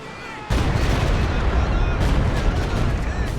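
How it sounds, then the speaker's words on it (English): Artillery barrage raining down in the video game Company of Heroes 2, a dense continuous roar of overlapping blasts that swells sharply after a brief quieter lead-in and stays loud throughout. "This barrage coming in, gains some good hits on the MG42, gets a kill there."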